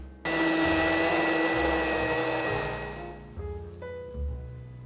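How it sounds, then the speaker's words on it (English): An immersion blender whirs loudly through a pot of soup, starting abruptly and running steadily for several seconds, then its pitch shifts and dips as the blade moves through the liquid, with no talking. "So you're using an immersion blender."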